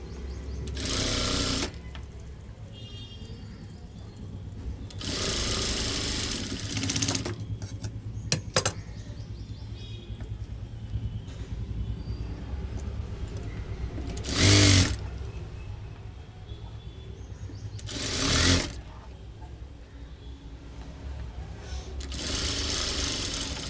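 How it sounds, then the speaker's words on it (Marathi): A sewing machine stitching a folded blouse sleeve, running in several sustained bursts of steady rapid whirring with pauses between, close and clear, with occasional faint clicks and handling noises. "पाच नंबर शिलाई आपल्याला मारून घ्यायची जेणेकरून आपल्याला परत हात शिलाई करता येईल"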